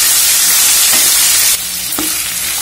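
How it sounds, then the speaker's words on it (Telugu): Chopped ivy gourd pieces and curry leaves are stirred in a hot frying pan for a spicy Andhra-style dish, sizzling loudly and continuously with a few scraping stirs against the pan. "ఇప్పుడు మనం కట్ చేసి పెట్టుకున్న దొండకాయ ముక్కలు యాడ్ చేసుకుందాం అలాగే కరివేపాకు వీటిని మంచిగా కలిపేసుకుందాం"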